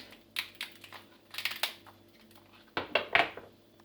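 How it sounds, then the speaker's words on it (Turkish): Ice cubes dropped into a glass while making iced dalgona coffee, giving a few bright clinks and clatters in short clusters, close and clear over a quiet kitchen hum. "Buzlarımızı bardağımıza alıyoruz."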